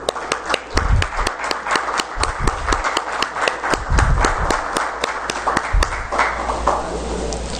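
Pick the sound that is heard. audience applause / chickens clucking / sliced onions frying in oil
audience applause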